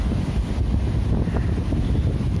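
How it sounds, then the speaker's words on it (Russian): Wind buffets a microphone outdoors among palm trees in Mui Ne, Vietnam, a steady low roar and rumble with no voice over it. "извиняюсь за ветер"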